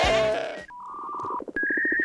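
Goat bleating in the Minecraft video game, one wavering, tonal bleat followed by shorter synthetic tones, close and clear with no talk.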